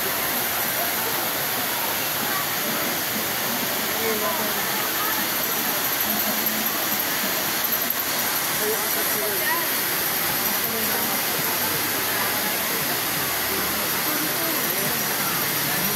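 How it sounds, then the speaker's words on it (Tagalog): River water from the Sierra Madre mountains rushing over Wawa Dam, a dense, steady roar of falling water that fills the whole stretch at constant loudness, close by. "nagpapalamig sa buhos ng ilog mula sa tubig na galing sa kabundukan ng Sierra Madre"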